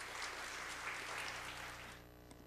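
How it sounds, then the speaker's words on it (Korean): A church congregation at a Korean prayer meeting claps to welcome an elder to the stage, a fairly quiet, even round of applause over a low hum that fades toward the end. "우리 장로님께서 올라오실 때 박수로 환영해 주시기 바랍니다"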